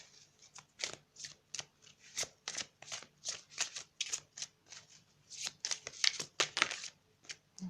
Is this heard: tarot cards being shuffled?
yes